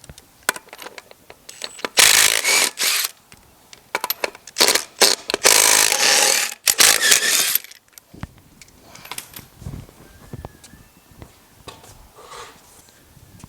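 Ratchet working lug nuts to pull the wheels off a Pontiac GTO restomod, giving rapid clicking bursts in several loud runs early on, then quieter tool handling and faint clinks.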